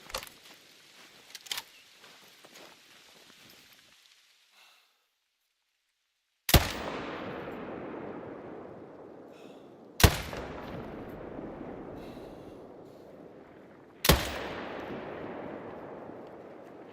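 Three loud hunting-rifle shots from a new rifle in theHunter: Call of the Wild, each a sharp crack with a long rolling echo, spaced a few seconds apart after a quieter stretch with a couple of fainter clicks and pops.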